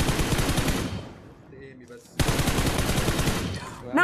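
Rapid automatic gunfire from a mobile battle royale game, two loud sustained bursts of close shots separated by a short lull with faint distant pops, no talk over them.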